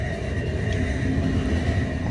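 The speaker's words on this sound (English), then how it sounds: "Stop the train." Steady rumble of a train rolling along in the game Final Station, in an underground subway section, a constant loud mechanical drone with no breaks or voices.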